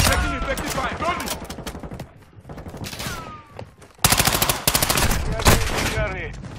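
Rapid bursts of video game gunfire crackle through a tactical shooter match, loud and close, with dense volleys that drop off briefly midway before resuming heavily, while a voice talks between the shots.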